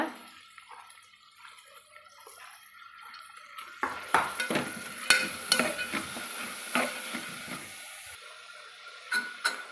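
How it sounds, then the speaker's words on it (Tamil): Green cowpea pods and lentils sautéing in a pan, with quiet sizzling at first and then busy scraping and clinking of a spoon against the metal as the mixture is stirred, with no talking. "இந்த பச்சை காராமணி பிஞ்சையும் இந்த பருப்பையும் இது கூட சேர்த்து அதையும் வதக்கலாங்க"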